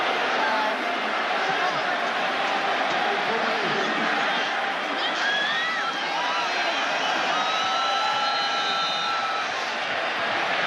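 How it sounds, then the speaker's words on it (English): A stadium crowd at a 1996 Miami versus Syracuse college football game reacting to a penalty, a loud, continuous roar with whistles and shouts rising over it, distant and dense. "listen to this crowd"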